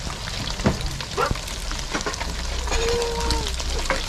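Small mixed fish sizzle and crackle steadily in hot oil in a pan, a close, continuous frying hiss with occasional louder pops throughout.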